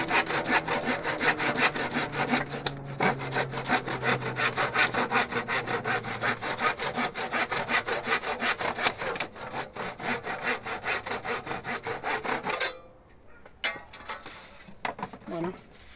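Wood being cut with a hand saw in horizontal strokes, a steady rhythmic rasp of back-and-forth strokes close up, loud and continuous, then stopping near the end with a few lighter scrapes and handling noises.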